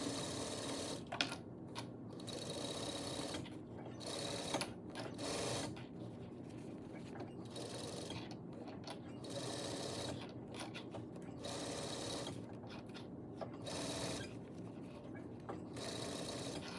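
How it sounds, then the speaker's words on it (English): A sewing machine stitches a waistband seam close to a folded seam allowance, running in steady bursts of rapid mechanical whirring separated by brief pauses, close and continuous through most of the stretch. "you want to be sewing as close as you can to this folded seam allowance piece"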